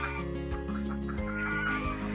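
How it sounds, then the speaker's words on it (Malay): Chickens, ducks and geese on a farm at a Port Dickson holiday lodge cluck and call together in a dense, continuous, close-by flock chorus with no pauses. "Kita ada angsa, itik, ayam."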